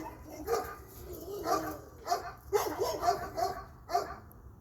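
Small dogs bark and yip in short, irregular bursts, fairly close, with a few high-pitched yelps mixed in over a quiet background.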